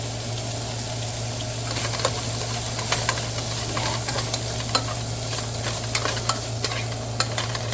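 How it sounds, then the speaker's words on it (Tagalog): Potatoes sautéing in rendered sausage fat with no added oil, a steady close sizzle with frequent stirring scrapes and clicks of a utensil against the pan, over a constant low hum. "Gusto ko medyo magisa-gisa muna yung potato ko bago ko i-add yung iba kong vegetable."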